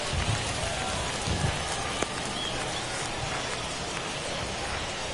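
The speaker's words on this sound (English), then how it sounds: "that rain is really coming down right now" Heavy rain pours steadily in the baseball video game MLB The Show 21, a dense, constant wash of drops on the surface that runs unbroken from start to finish, loud and close.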